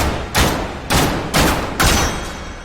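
Four heavy gunshots in a video game, fired one at a time about half a second apart, each a loud close blast with a short fading tail.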